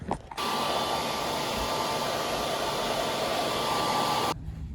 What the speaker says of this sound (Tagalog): I'm gonna dry out my hair.